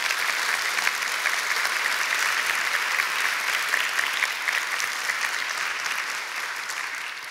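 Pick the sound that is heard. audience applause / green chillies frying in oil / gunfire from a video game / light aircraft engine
audience applause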